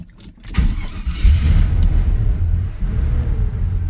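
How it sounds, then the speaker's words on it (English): A 1984 Chevy C10 truck engine cranks briefly then catches and starts, settling into a loud, close, rumbling idle that carries on steadily. "this truck normally starts up really quick if you kind of start it periodically"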